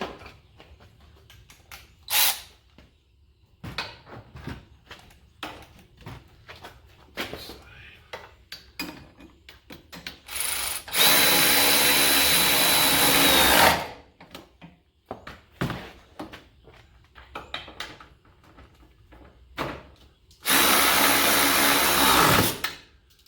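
A power ratchet working on Corvette Z06 parts during a sixth gear swap, two loud sustained whirring runs of a few seconds each, with clicks, taps and handling noises around them.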